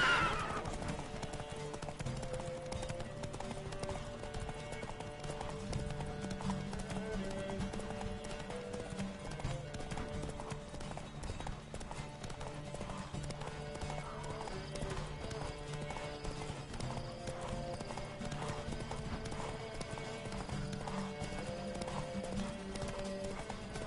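Horse hooves clip-clop in a fast, steady gallop throughout a race in the video game Witcher 3, with an occasional whinny over a continuous backdrop of game music and ambience.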